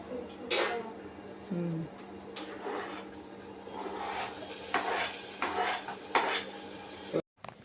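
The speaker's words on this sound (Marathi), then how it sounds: "आणि आता हे खोबरं तेलामध्ये व्यवस्थित फ्राय करून घेणार आहेत" Grated coconut fries in oil in a pan at home, a soft sizzle running throughout while a utensil scrapes and clinks against the pan in several short bursts.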